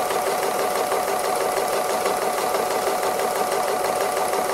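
A sewing machine stitching free motion embroidery runs close and loud without a break, a steady rapid mechanical whirring buzz with no pauses and no voices.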